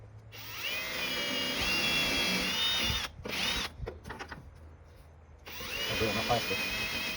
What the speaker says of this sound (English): Then I'll drill these out, put it on here, mark them,